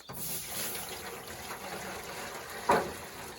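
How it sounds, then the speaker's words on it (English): Water pours into the drip pan of a Masterbuilt digital charcoal smoker as a soft, steady trickle, ending in a brief, louder splash. "I'm gonna put some water inside of this drip pan"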